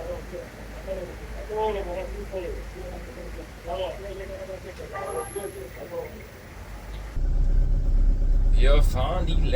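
A car drives through rush-hour traffic jams on the final two kilometres toward the port in Panama. A low, steady engine and road rumble runs throughout, with people talking over it and the rumble growing louder and heavier near the end.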